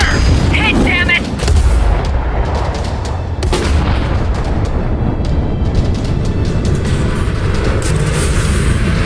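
Artillery gun fire from the Ace Combat 7 combat flight game: loud, dense booming and rumbling that runs continuously through the whole stretch, with sharper blasts breaking through the sustained roar.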